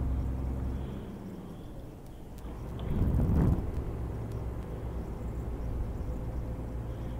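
Truck engine in Euro Truck Simulator 2, a weak 360-horsepower rig skipping two gears, drones steadily and swells into a louder rev around the middle of the shift before settling back to a steady hum.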